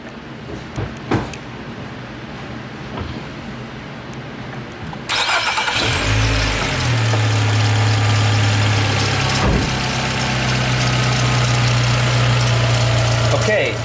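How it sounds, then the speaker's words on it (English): A car with a CVT transmission cranks and fires up after a quiet stretch with faint handling noises, then settles into a steady, fairly loud idle with a brief rev partway through. "I'm going to start the car."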